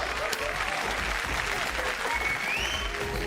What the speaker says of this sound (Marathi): राफिक दादासाठी जोरदार टाळ्या.